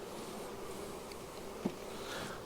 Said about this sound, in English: That next body right there has got several bees in it.